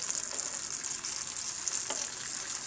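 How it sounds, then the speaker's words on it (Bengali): Shrimp frying with chopped onion and garlic in hot oil, giving a steady, bright sizzle that runs without a break and with no voices. "পেঁয়াজ এবং রসুন কুচির সাথে চিংড়ি মাছটা ভেজে নেবো"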